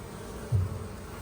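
Honeybees buzz around a backyard hive as a steady, faint insect drone, with one bee swelling briefly louder as it passes close by.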